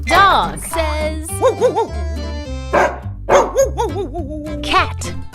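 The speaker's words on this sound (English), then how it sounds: "Dog says." A dog gives a run of short barks and yips over a bouncy children's song backing, the barks coming in quick bursts.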